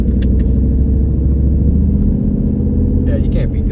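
A Ford F150 fitted with an On3 single turbo drives under load, its deep engine rumble loud and continuous from inside the cab, with brief higher noises near the end.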